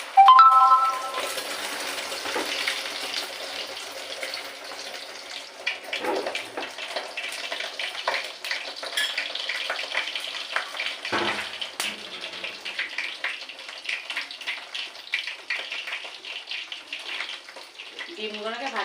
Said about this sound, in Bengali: ভাজি করে নেব